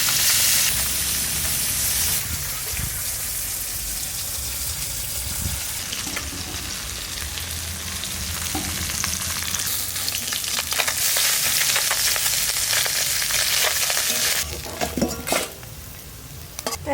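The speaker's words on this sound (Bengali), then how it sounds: "এইভাবে মাছটা ভেজে নিতে হবে।" Kajli fish fries in hot oil, a continuous close sizzle and crackle with occasional stirring clatter of a pan, no voices.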